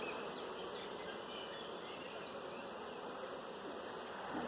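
Honey bees hum in a steady, even drone at an open hive in an outdoor apiary, a soft continuous buzz with no voices over it.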